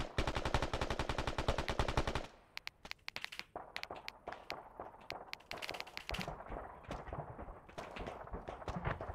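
Gunfire in the Arma 3 video game: a rapid sustained automatic burst at first, then scattered single and short-burst shots echoing near and far, loud and sharp, with no talk.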